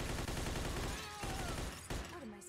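Gunfire in the Mafia 2 video game: a dense burst of rapid shots fills the opening second, followed by scattered shots and other game sounds in the background.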